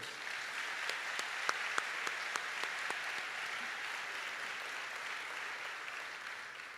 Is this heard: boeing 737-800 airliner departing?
no